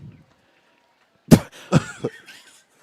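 Close, sharp coughs, one followed by two shorter ones, breaking an otherwise quiet moment.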